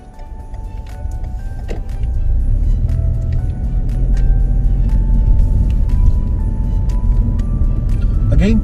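A car pulls away from the kerb on a driving test in Enfield, London, its engine rising steadily and staying close under a constant low rumble, with a brief squeak and faint voices near the end.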